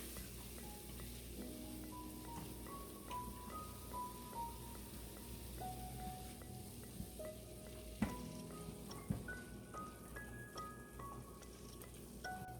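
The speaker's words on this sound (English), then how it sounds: "We're going to stir frequently to make sure that we're not letting the vegetables burn." Vegetables for a vegan stew frying in a pan, a steady soft sizzle with occasional spoon scrapes and a couple of sharper clinks, no voices.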